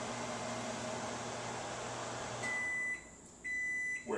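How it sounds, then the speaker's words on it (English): A microwave oven hums steadily while heating a cup of tea, then a series of beeps sounds as the cycle ends, the hum dropping out between tones. "into the microwave and ask it to heat it up for 2 minutes"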